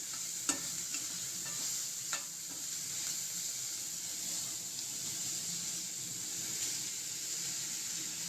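Rice stir-frying in a pan for egg fried rice: a continuous, even sizzle and hiss with a couple of faint utensil taps near the start, steady and moderately quiet with no talking.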